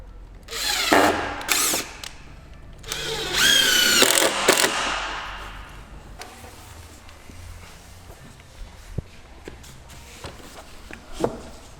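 A power drill drives screws into wall cladding on an insulated garden studio, with two loud bursts of whirring early on, then quieter clicks, taps and handling noises.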